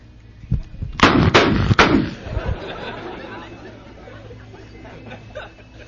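Several sharp gunshots ring out in quick succession near the start, loud and close, followed by a lingering noisy tail of room sound in a spoken comedy performance setting.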